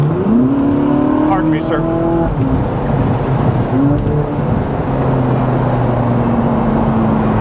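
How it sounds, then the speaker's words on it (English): A Ferrari 458 Spider's engine drones loudly and steadily from inside the cabin while driving on a city street toward an expressway, pitch rising and falling with throttle, and a voice speaks briefly over it. "there's a little window in the back that rolls down just so you can listen to the motor"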